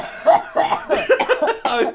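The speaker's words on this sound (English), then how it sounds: "I'm coughing too much to defend myself" A person coughs in a rapid burst of harsh, loud coughs close to the mic, one after another over two seconds with no pauses.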